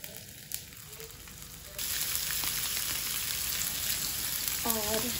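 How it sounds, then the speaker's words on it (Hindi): Fish fried in a pan for a home lunch gives a steady, loud sizzle that jumps up sharply partway through and holds dense crackling to the end, with a brief beep-like tone near the start and another at the close. "तो चलो फिश को फ्राई करते हैं।"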